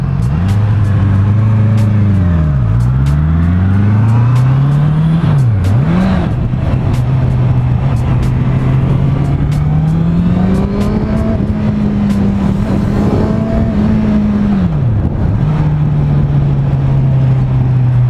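A 2018 Honda CBR650F motorcycle engine pulls loudly while riding, its tone climbing through the gears, dropping sharply at each shift and easing under engine braking, with wind rush behind it.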